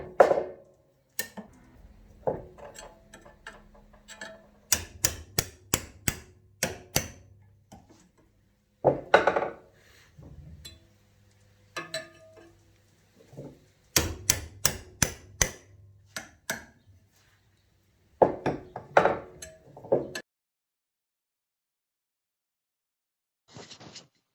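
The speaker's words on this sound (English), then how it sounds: "I'm just using a cold chisel to spread apart the metal" Steel hammer striking a cold chisel driven into the box joint of a damaged pair of Knipex pliers, spreading the metal. Sharp, close, ringing metallic blows land in quick bursts of several strikes, separated by brief pauses and a long quiet gap near the end.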